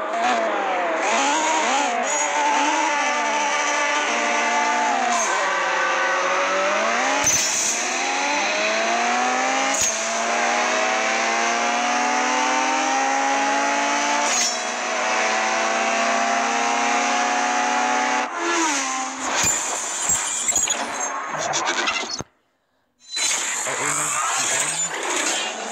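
Honda Civic Type R race car engine in a racing video game, revving steadily with rising and falling pitch sweeps and occasional tire squeal, loud and continuous, with a brief drop to silence near the end.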